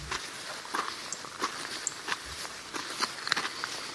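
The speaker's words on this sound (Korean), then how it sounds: "들으시는 대로 산길을 걷는 발자국 소리가 나고 있고 새 소리 이런 것도 들리는 거를 확인할 수 있습니다." Generated soundscape of footsteps on a forest mountain trail: an irregular series of crunchy steps, moderately close, over a quiet outdoor background with faint bird chirps.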